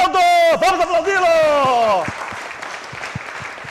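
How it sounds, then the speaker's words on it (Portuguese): A studio audience applauds as a pastor is welcomed to the stage, a loud voice ringing out at first before clapping carries on underneath and fades to scattered claps. "Vamos aplaudi-lo!"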